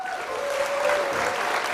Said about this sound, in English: Now we get 2 rounds of applause, right at the beginning